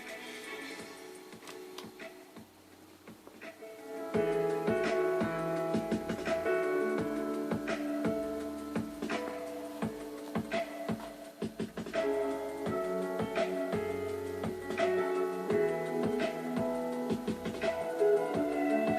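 A Tandberg 9000X reel-to-reel tape recorder plays back a test signal: a sequence of steady tones and chord-like bursts, moderately quiet, with brief gaps and changes in pitch over the run.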